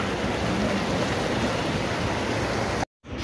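Light, non-stop rain falling where water has pooled, a steady broadband wash that holds evenly, then cuts out abruptly near the end.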